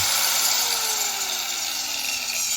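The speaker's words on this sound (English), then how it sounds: "It's a grinder. It's 0 to 100." A power grinder whines steadily at full speed on a car build, a loud, constant high-pitched mechanical drone with no change in pace.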